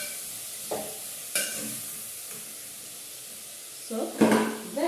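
Tomatoes are stirred and cooked in a pot of Kenyan beef stew, giving a soft, faint sizzle with a few light scraping stirs and clinks, the louder clatter coming near the end.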